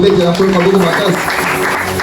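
A church congregation applauds and cheers for the Lord in a steady wash of clapping, with voices singing or calling out loudly over it.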